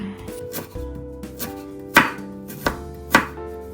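A knife chops spring vegetables on a cutting board: soft cuts followed by three loud, distinct thuds spaced about half a second apart, close up, over faint tonal background music.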